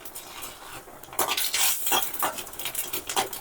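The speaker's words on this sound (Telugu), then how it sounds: "మిరపకాయలు వేగేటప్పుడే జీలకర్ర 1 స్పూన్ వేసుకోవాలి." Dry red chillies and cumin fry in a little oil, a soft sizzle broken by repeated scraping stirs of a spoon against the pan, growing busier after the first second.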